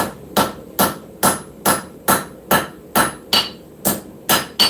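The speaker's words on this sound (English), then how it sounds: "hammer on the spine," A hammer striking a hot steel preform on the spine at a forge, about eleven sharp, ringing metallic blows in a steady, even rhythm, close and loud with no talk.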